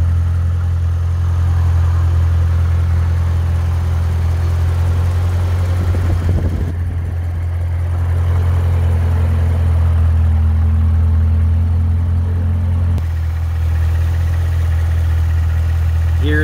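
A Corvette Z06 Stingray engine idles before an oil flush change, a loud, steady low rumble with a brief revving swell partway through before settling back to an even idle.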